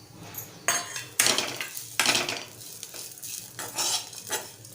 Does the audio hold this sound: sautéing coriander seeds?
yes